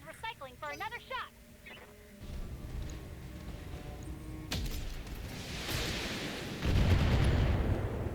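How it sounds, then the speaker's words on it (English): Battletech mech alpha strike weapons fire: a voice speaks briefly, then a mounting rumble of launches and blasts builds, with a sharp crack midway and a heavy, loud barrage of explosions at the end. "Commencing Alpha Strike."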